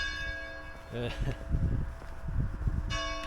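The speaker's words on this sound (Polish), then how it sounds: "dzwony, dzwony biją, aby dać znać, wszystkim mieszkańcom" Church bells ring steadily with long sustained tones on a winter day in the Beskid mountains of Poland, while a person laughs and voices talk over them partway through.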